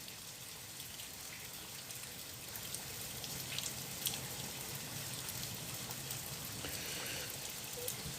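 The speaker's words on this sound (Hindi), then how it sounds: "बहुत शदीद बारिश हो रही है, फुल स्पीड में बारिश हो रही है" Heavy rain pours steadily outside an open window, a dense, even hiss of drops with occasional louder splashes and no voices.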